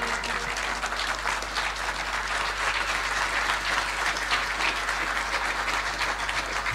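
A crowd applauds the award of a university charter to Aga Khan University, Kenya, a dense, even wash of clapping held at steady loudness throughout.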